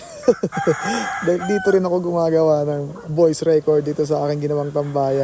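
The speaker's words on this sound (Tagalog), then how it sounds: "kung naririnig nyo nga na may mga tumitilaok na manok ngayon" Roosters crowing repeatedly nearby while someone talks over them, the calls rising and falling in long drawn-out bursts.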